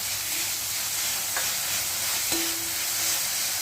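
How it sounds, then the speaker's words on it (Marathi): Carrot flour and sugar stirred in a pan for a fasting meal, a steady soft sizzle with faint scraping strokes, close and alone. "त्यामध्ये आपण साखर घालायची आहे आणि ते सारखं परतत राहायचं आहे"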